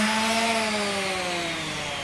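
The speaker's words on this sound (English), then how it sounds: "Then step it up to 150 grit and do a final pass with 220 grit to smooth out the new finish." Power sander working a butcher block table with 220 grit sandpaper, a steady close whine with a slowly falling pitch running throughout, no talk.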